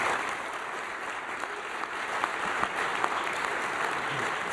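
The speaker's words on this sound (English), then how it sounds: "I'd like to just give another round of applause to all of the awardees" An audience at a corporate excellence award ceremony gives the awardees a steady round of applause, dense and even from start to finish with no talking over it.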